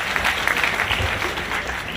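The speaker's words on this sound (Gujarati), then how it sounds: "એની માટે તાળી પાડો." An audience claps at a student's speech, making a dense, loud wash of applause that holds steady for a couple of seconds.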